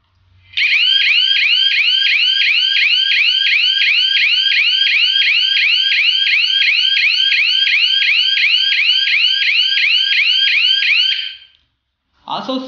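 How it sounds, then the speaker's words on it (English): A panic-button siren on a GSM and GPS women's safety device gives a loud, continuous warbling alarm at close range for about ten seconds, then cuts off abruptly before a brief voice. "Then siren will be on and SMS will send to register mobile number."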